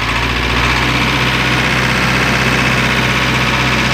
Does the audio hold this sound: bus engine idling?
yes